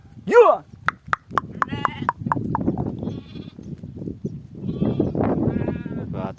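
A ewe gives a loud, wavering bleat up close, followed by hoof clatter and shuffling movement with further bleats from the flock in the background.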